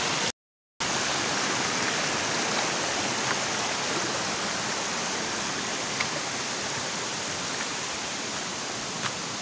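The Cunang waterfall pours down in a steady, loud, broadband rush that fills the whole stretch after a brief dropout at the start, with no talking.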